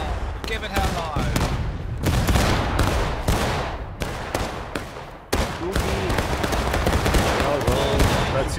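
Musket volleys crack and roll repeatedly through a Civil War video game battle at the Pry House, a dense sequence of loud, ragged shots with voices shouting between them.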